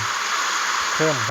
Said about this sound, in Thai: ลองเอาเสียงน้ำไหลนี่ครับ เข้ามา